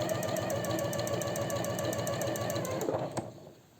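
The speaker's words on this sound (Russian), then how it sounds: "с помощью специальной лапки делаю красивую строчку" A sewing machine with a special presser foot stitches a seam on a silk blouse, running in a fast, even mechanical whir with rhythmic clatter before slowing and stopping near the end.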